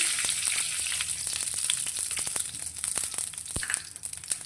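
Fine semolina roasting in ghee in a kadai over a medium flame, a steady close sizzle and crackle with soft stirring scrapes running throughout.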